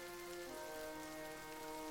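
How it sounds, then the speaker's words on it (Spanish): Steady rain falls on a surface, a faint constant hiss of drops with a sustained tonal hum layered over it, no voices. "Bajo la incesante lluvia"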